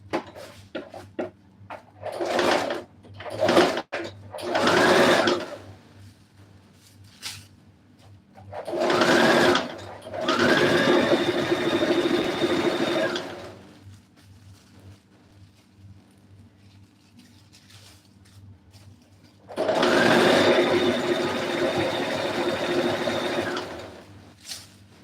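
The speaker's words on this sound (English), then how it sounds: "I like sewing in the darts first because it's easier for me that way." A sewing machine stitches darts on a strapless dress in several bursts, the first few short and choppy, then two longer steady runs of rapid whirring, with quiet pauses between.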